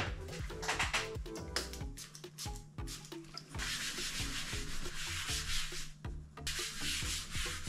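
Someone rubs and scrubs a PC case while cleaning it, a close, harsh scraping with rhythmic back-and-forth strokes that turns into a steady, loud rub.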